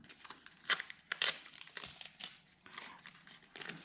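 Tape is handled and pressed onto a Hobbyking Durafly Brewster Buffalo model plane, making close, quiet crinkles and a few sharper tearing rasps in short bursts.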